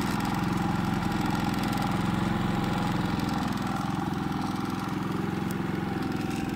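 Harbor Freight Predator 3500 or 4375 portable generator running with a steady, even engine drone, close and continuous, with no speech.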